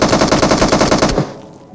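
A teammate in PUBG Mobile fires a rapid automatic burst at close range, loud evenly spaced shots rattling for about a second before cutting off into quiet game ambience.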